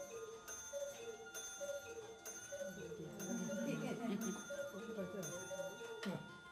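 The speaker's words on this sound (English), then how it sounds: "you can watch the lady pulling the bell" A small bell rung by a figure on a cuckoo clock chimes repeatedly in regular strokes, faint and mixed with a murmur of people talking nearby.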